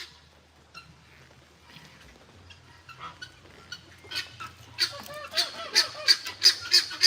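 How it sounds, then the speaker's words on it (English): Big white geese at an animal sanctuary honk again and again outdoors, the calls starting soft and growing louder and more frequent toward the end, with no talking. "And these big white ones here are actually geese."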